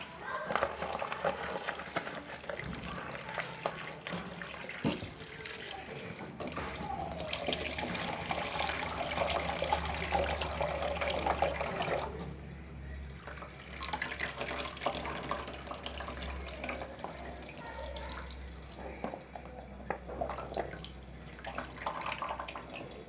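Potatoes are washed under a running kitchen tap for a naan pakora recipe, with water gushing steadily and splashing over them, changing as they are handled, while a voice talks softly in the background.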